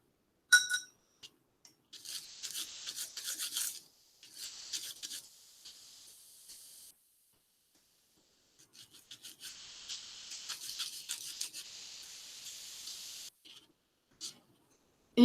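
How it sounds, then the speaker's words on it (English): Copper metal being polished on both sides with steel wool in a plating lab: bursts of close, dry scratchy rubbing, several strokes of a few seconds each separated by pauses, with no talk. "I'm going to polish both sides with the steel wool"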